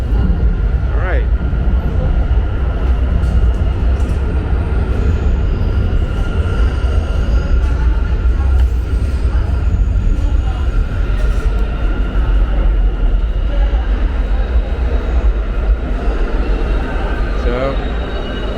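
A subway train rides under 42nd Street in New York with a steady, loud rumble and rattle of wheels on track and occasional squeals and clanks throughout.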